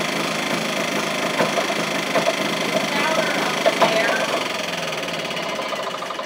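Muffled small engine running loudly outdoors at night, a steady dense drone with faint knocking pulses throughout, close and continuous.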